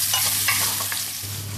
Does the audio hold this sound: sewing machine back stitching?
no